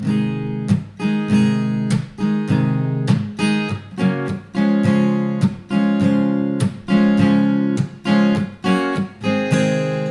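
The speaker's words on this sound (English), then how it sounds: "I'm creating a sort of percussive sound in the way that I strum certain beats" Acoustic guitar strummed in a steady rhythmic pattern, with sharp percussive slaps accenting certain beats between the chords, close and clear with no talking.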